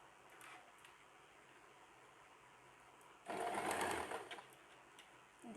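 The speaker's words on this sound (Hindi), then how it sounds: "इसको मैंने इस पे रखा और इस पे मैं सिलाई लगा लूँगी।" A sewing machine stitches a seam on an XXXL night pajama. A faint mechanical hum runs under most of the clip, then one loud, close burst of fast stitching lasts about a second before easing off.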